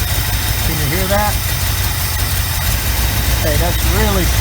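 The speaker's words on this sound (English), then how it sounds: "that's really slowed the engine down to ground out that one" A 1975 Chevy Camaro engine idles with one cylinder grounded out, giving a loud, steady, rough rumble close by, with voices talking briefly over it.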